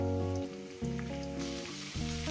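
Pumpkin shoots and potatoes fry in a pan with a steady crackling sizzle, louder and softer in waves, without any talking.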